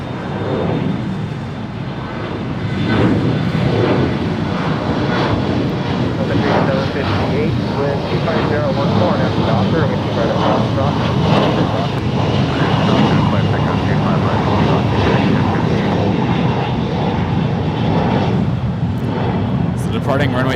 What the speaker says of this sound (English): departing runway 28 right now is Sun Country 8758, headed up to San Jose, California. It's a Boeing 737-800.